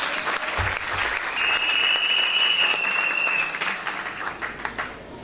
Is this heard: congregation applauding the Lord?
yes